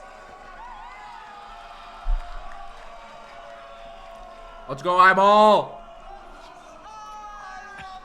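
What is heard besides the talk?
crowd noise at a bracket race tournament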